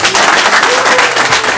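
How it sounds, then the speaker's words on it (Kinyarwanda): An audience at a live film launch event in Burera claps loudly, giving a brief dense burst of applause close by. "twongere amashyi menshi cyane tuyahereze nyakubahwa Kwizera Emmanuel"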